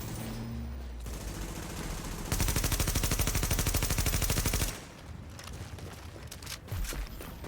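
Sustained rapid automatic gunfire in a PvP survival video game, a dense rattling burst lasting a couple of seconds amid scattered shots and ambient noise, fairly distant and moderately loud.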